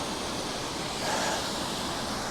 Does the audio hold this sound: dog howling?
no